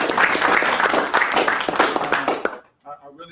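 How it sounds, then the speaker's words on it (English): Audience applause at a 1 Million Cups startup pitch event: dense, steady clapping from a seated crowd fills the room for about two and a half seconds, then cuts off into near silence. "first give yourselves a round of applause for the amazing"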